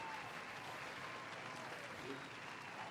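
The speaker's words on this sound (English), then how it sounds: "Ladies and gentlemen, another round of applause for Duke AB." Studio audience applauding a guest on a talk show, a dense, even wash of clapping held at a faint, distant level for a few seconds.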